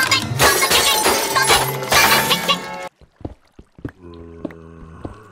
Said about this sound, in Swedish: De krossar alla klockorna